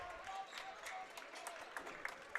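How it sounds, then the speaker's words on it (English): Fans in a high school gym clap steadily during a boys' basketball game, with a dense, continuous patter of applause under a crowd murmur and a few sharper claps near the end. "Eastern fans clapping it up"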